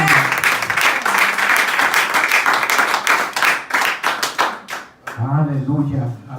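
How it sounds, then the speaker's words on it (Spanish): A church congregation claps together during a Sunday morning service, loud dense applause that holds for several seconds before thinning out, followed by someone speaking. "Podemos darle un aplauso al Señor en esta mañana"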